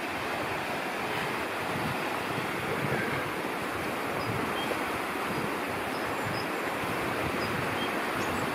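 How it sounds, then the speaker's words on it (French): The Seille, a small stream in the Baume gorge, rushes in a steady close broadband wash that never lets up, with a faint gusting hiss riding over the water. "Donc ça c'est la Seille, justement, le ruisseau qui est là."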